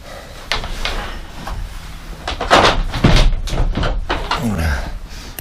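A shed door swings shut with a couple of solid thunks and rattling latch and lock sounds, loud and close, mixed with some handling noise outdoors.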